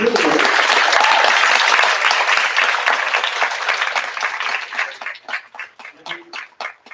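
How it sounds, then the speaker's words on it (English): Loud audience applause for judges at a high school humanities symposium, a dense sustained burst of clapping with some crowd voices that gradually breaks up into scattered individual claps as it fades. "So give them a round of applause."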